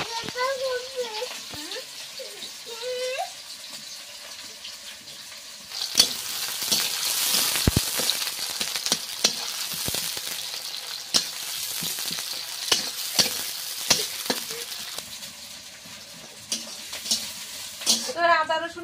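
Masala frying and sizzling in a pan while being stirred, loud and continuous with scraping strokes, cooking for duck curry; someone talks over it at the start and near the end.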